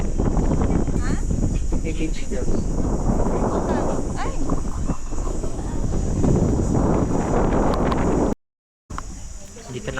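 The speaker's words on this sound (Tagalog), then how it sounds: "Ang hangin niya." Strong wind buffets the microphone atop Marble Mountain at Shaloy Tower in Da Nang, a loud continuous rumbling roar running almost the whole time under people talking, with a brief silent gap near the end.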